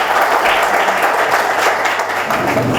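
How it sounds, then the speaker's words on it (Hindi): Audience clapping welcomes a speaker to the stage at a radio station anniversary event, sustained loud applause from a sizeable indoor crowd, continuous throughout. "आपकी भरपूर तालियों में।"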